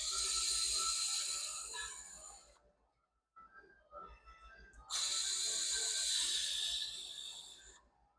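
An 8 mm ratchet backs out hold-down bracket bolts on a 6.7 Powerstroke, giving two long runs of fast, close, steady clicking with a short pause of quieter handling noise between them.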